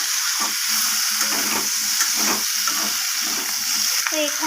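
Potato and capsicum curry gets stirred in a pan after coriander leaves go in, a bright continuous sizzle with repeated soft scraping strokes of a spatula at an even rhythm.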